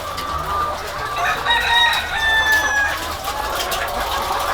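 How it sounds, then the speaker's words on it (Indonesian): Chickens cluck and a rooster crows among farm fowl, with several overlapping calls at close range throughout and a steady low background hum. "Ini salah satu hewan yang Allah sudah memberikan sama kita. Ayam ini kasihan banget ya."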